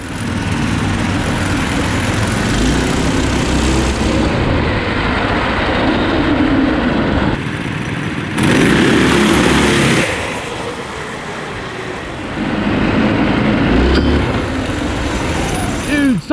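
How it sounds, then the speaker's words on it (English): Four small engines on an all-wheel-drive go-kart run loud and continuously, their drone swelling and easing over about sixteen seconds as the throttle changes, with voices talking over the racket. "when's the last time you saw four engines on a go-kart?"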